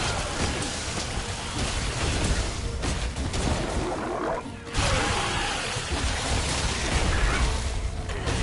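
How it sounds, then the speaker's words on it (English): Heavy rain pours in the Monster Hunter World: Iceborne video game, a loud dense continuous downpour that briefly dips before resuming at full strength, with no voices over it. "It's even raining. It's causing it to rain."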